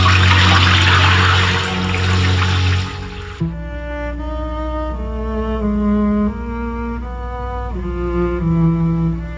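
A shower runs with a loud, rushing spray of water for about three seconds, then cuts off abruptly as music with sustained tones takes over for the rest.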